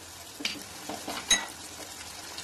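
Spice paste of red chilli, Kashmiri chilli, chilli flakes, coriander and cumin sautéed in a pan, a soft continuous sizzle broken by a few scraping stirs and a sharp clink of a utensil against the pan. Nobody talks.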